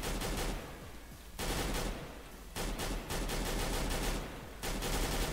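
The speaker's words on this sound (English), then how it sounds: "the first three or four bullets of the Galil when you're shooting, they like move up a little bit" Galil rifle fire in a shooting game, several rapid bursts of full-auto shots separated by short breaks, loud and close, with no talk over the gunfire.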